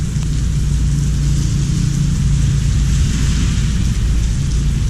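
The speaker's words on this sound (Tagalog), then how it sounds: "walang tigil ang ulan." Heavy rain pours steadily and loudly, with a deep thunder rumble underneath throughout.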